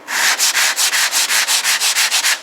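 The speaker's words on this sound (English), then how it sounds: "I'm just going to show you how easy it is to sand." Easy-sand plaster on a wall being sanded by hand, a close, loud, rhythmic scratching of about a dozen even back-and-forth strokes with no talk.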